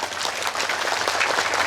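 Applause from a lecture audience at an Islamic study gathering in Taiwan, a dense continuous patter of clapping that fills the whole short stretch at a steady level, with no speech.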